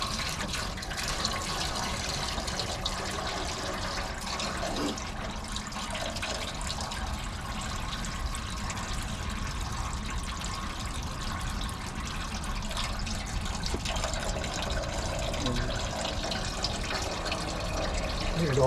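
Coolant pours steadily out of a car's upper radiator hose, a continuous trickling, splashing flow of liquid heard close up with no talking over it.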